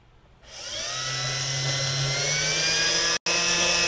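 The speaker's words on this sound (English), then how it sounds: "we just pick up the drill." A power ice auger spins up and bores a hole through lake ice for ice fishing, starting abruptly after quiet and holding a loud steady whine with a rising pitch, briefly cutting out near the end before resuming.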